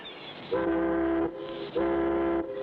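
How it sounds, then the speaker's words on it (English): Two loud, low boat whistle blasts, each lasting under a second with a short gap between, sounding clear and fairly close. "That's the first boat whistle that's sounded in 3 weeks."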